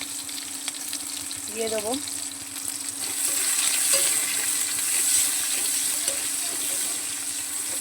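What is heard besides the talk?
onion and nigella seeds frying in a pan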